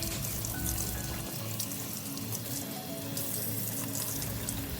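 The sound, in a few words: washing banana leaves in running water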